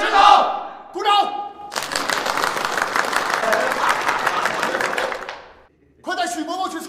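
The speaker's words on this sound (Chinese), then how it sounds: "欢迎许三多的父亲来我连参观指导， 鼓掌" Soldiers in an army company barracks break into a burst of loud, dense clapping to welcome a visiting father, lasting several seconds between shouted voices before and after.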